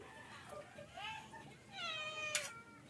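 A hungry cat meows several times in quick succession, close and fairly quiet, with rising and falling cries and a brief sharp noise near the end.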